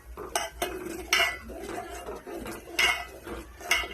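Tea being stirred in a pot on a stove, with a spoon scraping and clinking against the metal in a run of close, irregular strokes and sharp taps, no talk over it.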